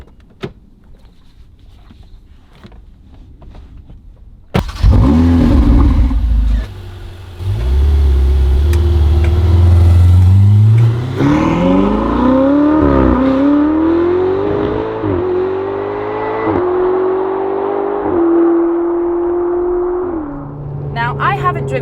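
A Ferrari 488 GTB starting off and accelerating: quiet clicks and a thunk, then the engine fires loudly and the revs climb in several rising pulls through gear changes, with a steady roar between shifts.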